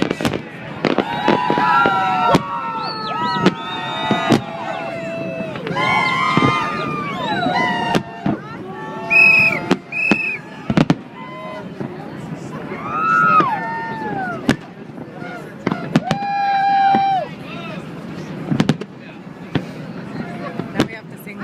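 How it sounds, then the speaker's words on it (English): New Year's Eve fireworks over San Francisco Bay, seen from a cruise boat: repeated sharp bangs and crackling bursts, some close and loud, others farther off, with a crowd cheering and people talking throughout. "I love fireworks."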